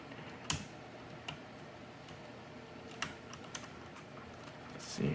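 Stainless steel keycap pressed onto a gaming mechanical keyboard, a few sharp isolated clicks and taps spaced seconds apart, with a louder snap near the end.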